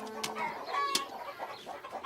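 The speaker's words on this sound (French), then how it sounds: "Caillou n'aimait pas que les poules courent après lui." Hungry cartoon hens cluck in short, busy bursts of squawks and chatter, close and fairly faint, with a sharp squawk in the middle.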